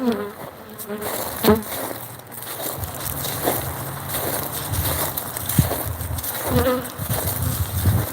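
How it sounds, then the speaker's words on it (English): Honeybees swarm and buzz around a beekeeper at the hive on a cool day, a dense close droning hum with individual bees whizzing past near the ear. "yeah, they are already buzzing me."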